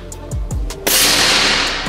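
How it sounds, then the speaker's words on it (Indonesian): A PCP Marauder FX air rifle fires once with a sharp crack, followed by a burst of hissing noise that fades slowly, after a few quieter clicks and taps. "Kita coba tembakan yang pertama."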